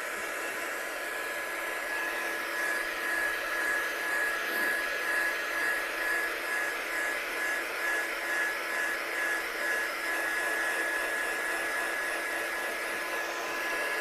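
A hair dryer blows steadily over a handmade watercolour card, a loud, even whooshing roar with a faint high whine, running close and unbroken throughout.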